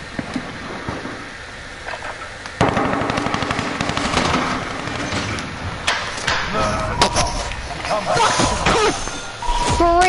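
Call of Duty gunfire from a KG4M40 rifle, loud rapid automatic bursts repeating through the stretch with thuds and impacts, and a voice talking now and then.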